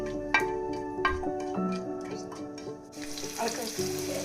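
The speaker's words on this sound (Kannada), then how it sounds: "ಒಲೆಯಲ್ಲಿ ಸ್ವಲ್ಪ ಎಣ್ಣೆ ಹಾಕಿ ಸ್ವಲ್ಪ ಜೀರಿಗೆ, ಲವಂಗ ಮತ್ತು ಚಕ್ಕೆನ ಫ್ರೈ ಮಾಡ್ಕೊಳ್ತಾ ಇದ್ದೀನಿ." Cumin, cloves and cinnamon frying in a little oil on the stove for a chicken curry, soft sizzling under ringing pan clinks and tonal tones, with the frying hiss rising toward the end.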